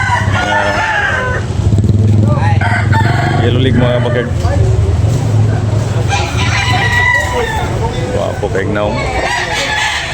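A rooster crows repeatedly, loud and close, the calls overlapping with someone talking over steady background noise at a chicken market in Carbon, Cebu.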